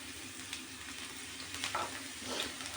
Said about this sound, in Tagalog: Lutuin ko lang yung ating bawang. Papulahin natin.